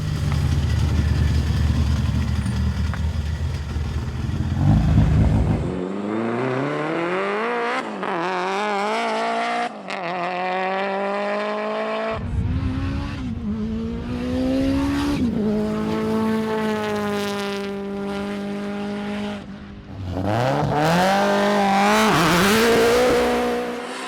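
A Mitsubishi Lancer Evolution 6 at a drag battle, boosted with nitrous, screams through rising gear pulls with sharp upshift breaks between them and loud, close engine wail, plus tire noise at the launch.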